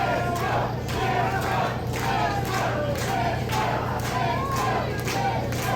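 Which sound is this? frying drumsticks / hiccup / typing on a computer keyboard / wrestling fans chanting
wrestling fans chanting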